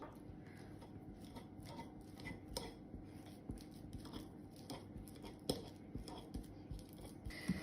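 Bananas are mashed in a bowl for banana bread, with quiet irregular squishing, scraping and clinks of a utensil against the bowl, close and soft, without talk.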